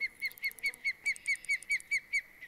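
A repetitive bird call in the fishing game Fishing Planet at a peacock bass hotspot, with about eleven sharp, evenly spaced honking chirps in quick succession, loud and alone.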